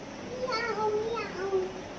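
A voice imitates a cat, drawing out a wavering meow-like cry across the clip, close and clear over a faint background hiss.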